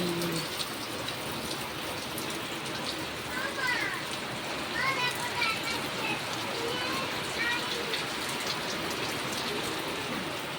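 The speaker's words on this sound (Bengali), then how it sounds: "আর বৃষ্টি হচ্ছে চলো তোমাদের সাথে দেখাই কেমন বৃষ্টি হচ্ছে" Heavy rain falls outside a house during a power cut, a steady dense hiss of drops on surfaces heard from nearby, with voices talking faintly over the continuous downpour.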